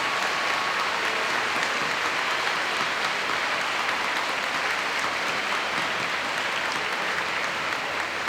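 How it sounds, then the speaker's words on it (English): A large audience applauds steadily at a Fort Atkinson Middle School 8th grade promotion ceremony, with dense, even clapping filling the hall for the whole stretch, no voices on top. "Let's give a big round of applause."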